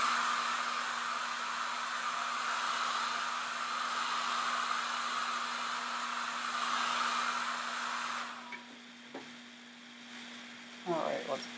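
A hair dryer on its cool setting blows with a steady whooshing hum over a plastic lampshade, then cuts off near the end, leaving a few clicks and a brief voice.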